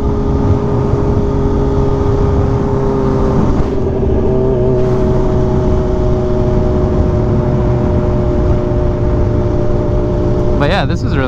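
A Kawasaki Ninja H2 motorcycle drones steadily during a ride through Hollywood, its engine loud and close with wind rush and a shift in pitch near the end.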